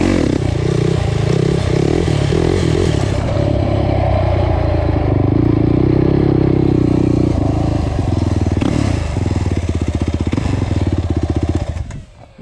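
A quad ATV engine revving hard through a stand-up wheelie, a loud, close, sustained roar with clattering, buzzing tones that shift pitch as the throttle changes, then cut off abruptly at the end; no talk.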